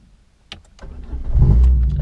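A Peugeot 106 with a damaged key starting up: a few clicks, then a short cranking whir, after which the engine catches and settles into a loud, close, low rumbling idle.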